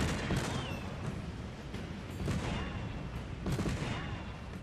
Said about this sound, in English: Just press the trigger button while you're gliding to shoot cannons.